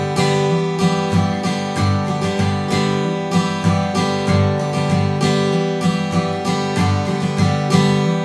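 Acoustic guitar strumming the intro of a song, a steady rhythmic strumming pattern of full chords, close and loud, played continuously with no voice.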